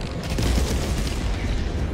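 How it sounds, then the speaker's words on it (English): Explosions and gunfire in the co-op shooter video game Helldivers 2, a dense, continuous booming rumble with crackling bursts filling the whole stretch at steady loudness, no talk over it. "Damn, the explosion's back here."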